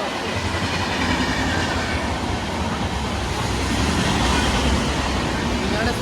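A train runs along the rail line behind a temple, giving a steady, loud rumble and rattle of rail cars that lasts throughout with no clear start or finish.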